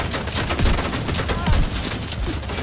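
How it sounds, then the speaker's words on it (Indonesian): Rapid, dense bursts of rifle gunfire from The Division 2, fairly loud and continuous with sharp repeated cracks, likely sniper rifle shots amid a busy firefight. "Jadinya pakai sniper lagi"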